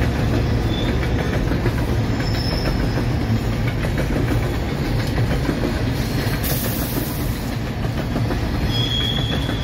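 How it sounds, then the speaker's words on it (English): A freight train hauling coal rolls steadily past nearby, a continuous loud rumble with rhythmic wheel clatter and occasional high squeals of steel wheels, with no talking. "Oh, and we got a train."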